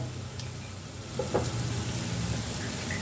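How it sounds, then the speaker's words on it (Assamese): Milk and banana pitha (malpua) batter sizzles in hot oil in a pan, a steady close frying hiss with a brief clatter of utensil partway through. "এতিয়া মই সিটো চাইডেও ভাজি ল'ম"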